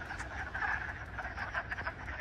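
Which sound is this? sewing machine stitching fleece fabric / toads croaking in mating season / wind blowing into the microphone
toads croaking in mating season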